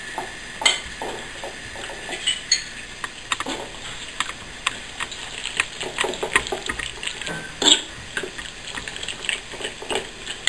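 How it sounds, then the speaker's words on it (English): Ingredients being mixed together in a bowl with a fork, a busy stream of light scraping and clinking taps repeating irregularly throughout at close range, with no talking. "You're mixing it all together."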